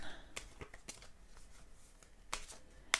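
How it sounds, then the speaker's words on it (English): Oracle card deck being shuffled by hand, soft quick riffling and flicking of cards in short bursts, close and quiet with a sharper snap at the end. "Give it a nice shuffle just to see what comes up again."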